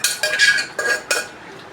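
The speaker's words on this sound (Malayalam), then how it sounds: "ഞാൻ ചീനച്ചട്ടിയിലോട്ട് വെന്ത ഇറച്ചിക്കറി ഇട്ട് കൊടുക്കാം" Cooked mutton curry, Kerala style, going into a frying pan, giving a few clinks and scrapes of metal against the pan in short bursts, close and fairly loud, with no talking.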